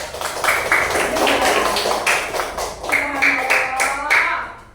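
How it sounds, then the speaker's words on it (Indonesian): A class of pupils in a maths lesson claps together in short rhythmic bursts, close and fairly loud, with brief gaps between rounds of hand claps. "Tepuk tangan, guys."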